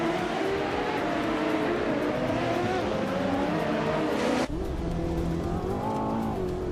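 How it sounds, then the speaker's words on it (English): A 1998 Porsche 911 GT2 race car drives at speed during a race, its engine droning loudly and continuously with shifting pitch and a brief break partway through as it changes gear. "driving a 1998 Porsche 911 GT2"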